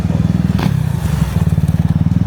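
A car engine at the Daikoku Friday night car meet buzzes close and loud like a dirt bike, with a fast, even pulsing idle and a brief blip of revs.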